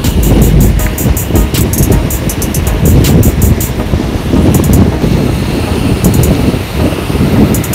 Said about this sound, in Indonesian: Oh, yang angin kuat.